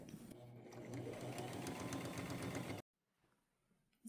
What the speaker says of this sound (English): Now I'll top stitch it.